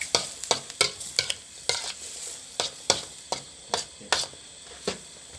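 Stir-fry sauce goes into a hot pan of basil stir-fry, with sharp, rhythmic spatula strikes and scrapes against the pan over a constant sizzle, close and fairly loud, and nobody speaking.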